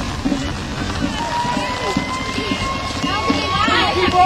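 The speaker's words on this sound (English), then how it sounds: "Keep running, it might stop raining." Rain falls outdoors at a 4th of July gathering as people run, a continuous close hiss of drops under lively overlapping talk and crowd noise.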